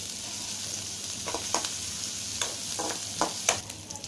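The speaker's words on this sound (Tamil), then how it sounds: "பச்சை மிளகாய், இதெல்லாத்தையும் நல்லா வதக்கிடுங்க" Onion and green chillies sautéing in a pan for pudalangai kootu, a soft continuous sizzle broken by several scraping stirs of a spatula, with no talk.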